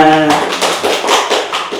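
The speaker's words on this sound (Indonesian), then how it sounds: "Tepuk tangannya mana?" A brief round of applause from a small audience at a podcast recording, a voice trailing off before a few distinct, evenly spaced claps.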